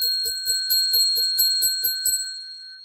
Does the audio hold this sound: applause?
no